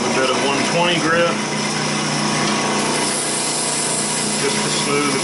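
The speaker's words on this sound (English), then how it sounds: "Sanding, starting with a bit of 120 grit" Sandpaper of 120 grit rubs against a wooden baby rattle spinning on a woodturning lathe, a continuous loud hiss over the motor's steady whine, with no pauses.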